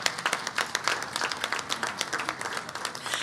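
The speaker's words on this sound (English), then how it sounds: "let's give them a round of applause." Audience at an annual business meeting claps, a dense burst of applause from many hands, fairly close and steady, with no talk over it.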